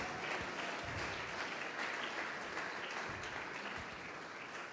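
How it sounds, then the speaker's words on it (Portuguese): A congregation applauds during a church sermon, producing a steady, fairly soft wash of clapping that holds for several seconds with no voice over it. "Pode aplaudir, glorifica a Deus, irmão."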